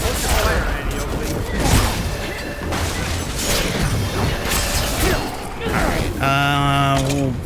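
Bursts of gunfire and booms in a shooting video game, dense and continuous with mechanical clatter, under excited talk.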